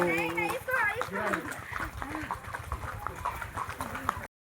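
Horses walking in Pahalgam, hooves clip-clopping in an uneven rhythm close by, under steady chatter from people and children nearby.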